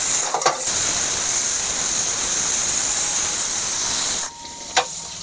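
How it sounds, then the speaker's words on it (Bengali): A fish head fries in hot oil in a kadai, giving a loud, dense, steady sizzle and hiss that suddenly cuts off near the end, with a couple of brief clicks around it. "এই সাথে সাথে মাছের মাথাটাও ভেজে নিচ্ছি"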